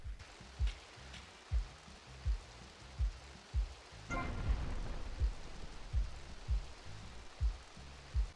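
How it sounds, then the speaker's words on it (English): Rain falling during a weather change in the video game GTA Vice City, a steady hiss of rainfall with a regular low thumping pulse about every three-quarters of a second and a brief louder surge partway through. "if you want to turn a sunny day into a rainy one"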